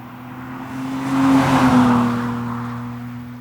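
A BMW straight-six car engine revs up and swells to a peak before easing back down, with a steady low drone throughout, fairly close.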